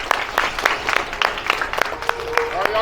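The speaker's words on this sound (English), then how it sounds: "guys, give yourself a round of applause" A group of kids at a police department sports camp clapping together in a steady round of applause, with sharp, dense claps that go on for a few seconds.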